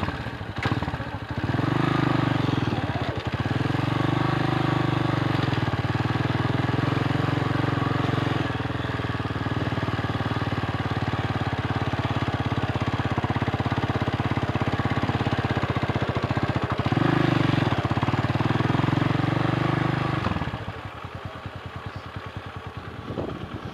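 A TC 200 motorcycle crawls slowly across sand in first and second gear, its engine droning steadily with brief dips and surges as the rider works the throttle, then fading out near the end.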